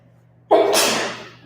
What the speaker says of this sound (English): You made me want to sneeze.